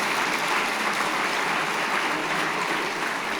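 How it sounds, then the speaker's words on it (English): A big round of applause from the audience at a youth awards ceremony for young finalists, steady dense clapping filling the hall with no voices over it. "that's a big round of applause."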